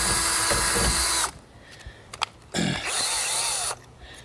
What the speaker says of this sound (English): Drilling through steel at a slower rate is the best bet that I've found.